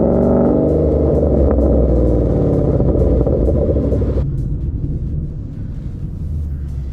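A Ford Mustang S197 drives through morning rush-hour traffic in Raleigh, its engine a loud, deep, close rumble that holds steady and then eases off as the car settles into cruising.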